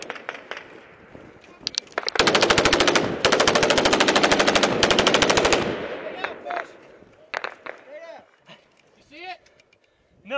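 Sustained automatic gunfire in combat in Afghanistan, a loud rapid machine-gun burst of several seconds with short pauses, then scattered shots and shouting voices amid outdoor noise.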